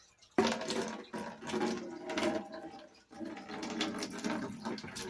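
Muddy water slowly poured off clay paydirt in a metal gold pan while it is shaken, a quiet continuous sloshing trickle with a brief pause midway, close by and without talking.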